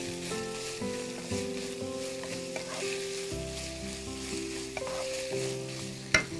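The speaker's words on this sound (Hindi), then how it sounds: "और इसे अच्छे से मिक्स करेंगे।" Chicken fried rice is stirred and mixed in a hot pan, with a steady close sizzle of frying under repeated scraping stirs and no talking.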